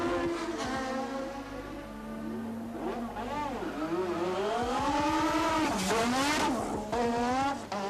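A 1987 Formula 1 race car rejoins the race after a pit stop and roars past a line of onlookers. Its engine note climbs and swoops through the gears, loud and close, with tyre squeal and crowd noise beneath.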